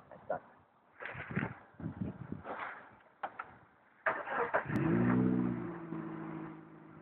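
A blue 2008 car's engine cranks, catches and settles into a low, steady idle, close by, after several seconds of scattered knocks and movement; faint voices are heard in the background.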